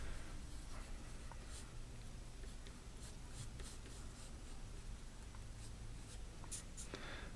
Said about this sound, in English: So if we draw that oval